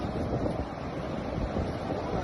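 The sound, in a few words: sea waves at a beach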